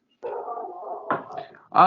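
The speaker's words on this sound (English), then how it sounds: "And now my dog is barking to add to the animal scenery." A pet dog barks and whines at home during a mixed martial arts picks discussion, with drawn-out vocal sounds and a sharper bark near the end, close and fairly loud.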